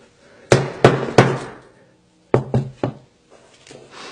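A hammer strikes a Samsung Galaxy S7 phone in two close, loud groups of three sharp knocking blows, separated by a short silence.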